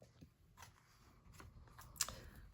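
A few soft, sparse snips of scissors cutting a cardstock treat box, close and quiet, with one sharper cut near the end and no talking.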